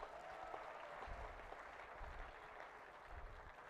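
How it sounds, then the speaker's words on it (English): A round of applause from graduates at a university convocation ceremony: a steady, faint wash of clapping that sounds distant and continues evenly throughout. "so give yourselves a round of applause."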